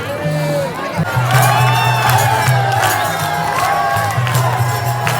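A large crowd fills a Shiv Mahapuran katha pandal in Baloda Bazar, a dense murmur of many voices with shouts and whoops rising over a steady low hum of babble, close and loud throughout.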